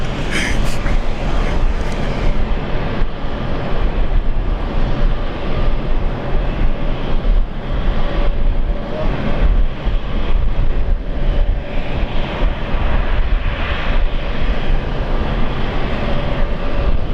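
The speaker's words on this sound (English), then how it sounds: "Velocity 326 at Brisbane Tower, runway 19 left, clear for takeoff." A passenger jet taking off from runway 19 left at Brisbane roars loud and constant, a broad, steady engine rumble holding for the whole stretch.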